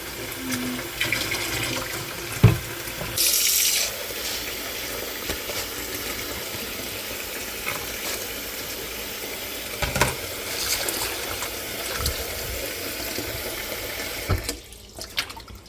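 Water runs steadily from a tap into a sink, washing holy basil, splashing continuously, with a few clunks and knocks of handling along the way.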